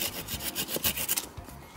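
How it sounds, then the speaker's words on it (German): A hand saw cutting through a plum tree branch stub during summer pruning, with quick, rhythmic rasping strokes close by and no talking. "Man kann den Knuppel jetzt nochmal absägen."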